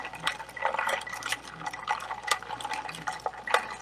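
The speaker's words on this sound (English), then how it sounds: "I'm going to just pour it in, slowly stirring" Liquid poured slowly into a punch cocktail while it is stirred, giving soft splashing and trickling with light clinks in a steady rhythm, close by and without voices.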